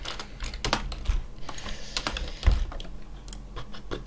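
Rapid clicking keystrokes on a computer keyboard during a programming session, irregular bursts of close, crisp taps with occasional heavier key presses, no talking.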